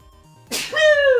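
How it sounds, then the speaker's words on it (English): A man sneezes once, a sharp burst after a brief quiet lead-in, followed by a short voiced trailing tail. "I need to sneeze."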